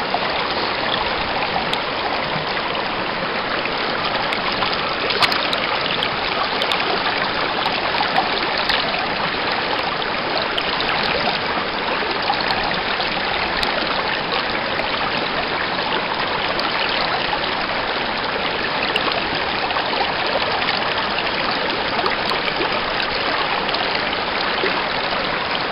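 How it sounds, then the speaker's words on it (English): River water from the Little North Fork Santiam rushing through a gold prospecting sluice fed by a small dam: a steady, dense, close-up wash of flowing water, loud and unbroken, with no voices. "got the sluice running good"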